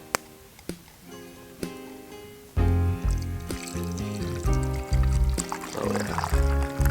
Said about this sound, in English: Give it a nice pour.